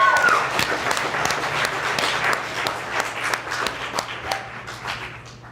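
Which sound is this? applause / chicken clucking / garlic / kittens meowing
applause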